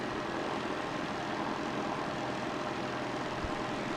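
An airplane taxiing at Christchurch Airport in New Zealand, a steady, broad engine rumble and whine held at constant loudness throughout, heard from some distance with no speech.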